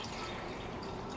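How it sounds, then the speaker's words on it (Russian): Tap water runs into dishes for a chemical mixture, a brief, steady splashing fill that is close and continuous with no talk over it. "Еще сейчас воды добавлю, пойду, немного не хватает."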